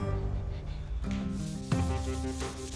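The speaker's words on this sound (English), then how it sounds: "a good scuff job with some 600 grit and a block is a good start" A classic Trans Am hood is hand-sanded with 600 grit paper on a block: short, dry, scratchy rubbing strokes, close and moderately quiet, with no talking.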